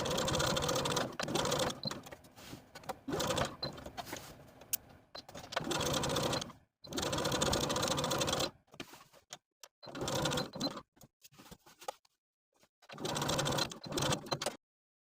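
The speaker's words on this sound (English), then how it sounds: "take this to your sewing machine and sew through all layers all around the rectangle" Sewing machine stitching through all layers of a vest's welt pocket rectangle, running in several loud, close bursts of rapid mechanical whirring separated by short pauses at the corners.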